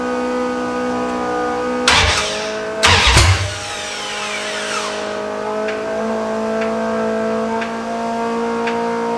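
A big block engine in a Prospector cranks over during a swap, with two loud, brief bursts of turning over about a second apart against a steady background hum, then quieting down.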